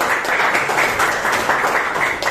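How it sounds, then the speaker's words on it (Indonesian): A classroom full of students claps together for a group about to present, a dense, loud burst of applause that keeps going for a couple of seconds. "Kita sambut kelompok 3. Tepuk tangan dulu."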